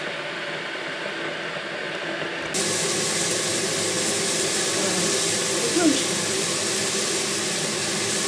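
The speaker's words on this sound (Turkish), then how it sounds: "Ee, soğanımızı koyduk içine. İki orta boy soğanımızı. E şimdi kavrulmaya bırakıyoruz." Two medium onions hitting hot oil in a pan, a sudden jump into a loud, steady hiss and sizzle that continues unbroken, with someone speaking over it.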